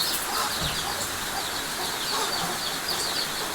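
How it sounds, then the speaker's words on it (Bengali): Local desi chickens cluck inside their coop during rain at feeding time, soft clucks scattered over a steady hiss of rain and background noise. "দেশি মুরগি"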